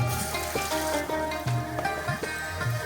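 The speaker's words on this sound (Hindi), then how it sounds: "और अब हम इसको कर लेंगे फ्राई" Bread pakora fries in oil in a kadhai with a steady, close sizzle and fine crackling bubbles. A faint background hum runs underneath.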